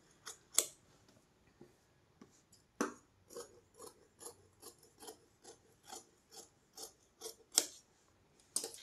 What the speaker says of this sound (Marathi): आपण कट करणार आता क्रॉस पट्टी.